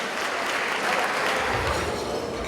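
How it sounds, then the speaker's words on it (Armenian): An audience claps for a performer taking the stage in a steady wash of applause. The clapping stays loud and even through the short stretch with no voices heard. "խնդրեմ, ծափահարություններ։"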